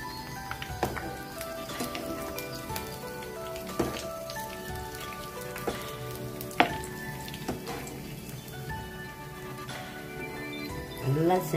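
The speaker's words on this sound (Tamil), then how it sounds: "இப்போ எண்ணெய் காஞ்சிருச்சு, பிணைஞ்சு வச்ச மாவை இப்படி போடணும்." Masala paniyaram batter fries in hot oil with a steady crackling sizzle, punctuated by clinks of a utensil against the pan, close and continuous with a louder burst of bubbling at the end.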